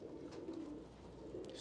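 A white-eyed racing pigeon coos in a low, steady murmur at close range, a soft continuous rumble lasting the whole moment with a brief brighter rustle near the end.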